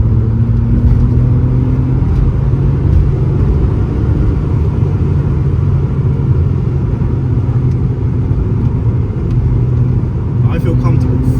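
A 280 bhp BMW 130i engine drones loudly and continuously through a corner with a steady rumble and slight pitch shifts, close and dominant throughout.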